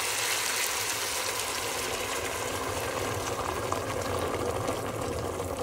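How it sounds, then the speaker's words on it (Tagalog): A pot of water with pork belly simmers at a rolling boil, a dense, steady bubbling hiss that holds evenly throughout with no voices over it. "pinakulo ang tubig na yan siya"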